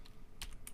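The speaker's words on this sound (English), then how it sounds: "I cannot type on this keyboard." Quick, faint clatter of keys being typed on a computer keyboard, a few uneven taps in a quiet room.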